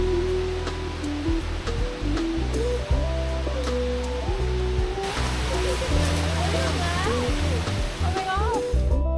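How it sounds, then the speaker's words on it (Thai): Kok Idok waterfall in Thailand, visited in early winter when the flow is low, gives a steady rushing wash of falling water, with bird calls and bits of nearby voices over it. "และแล้วเราก็มาถึงน้ำตกโกกอิดก"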